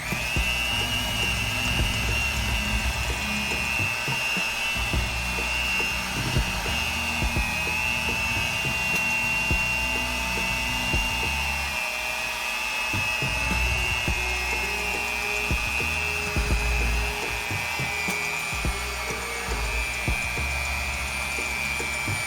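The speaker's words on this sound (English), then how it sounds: "we just want to make sure that our batter is mixed well" A whining electric mixer runs steadily and close through purple yam marble cake batter, holding a constant high hum with light rattling underneath and no talk.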